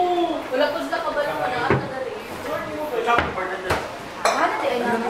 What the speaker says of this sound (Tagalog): Kailangan talaga na individual tayo maghugas ng pinggan natin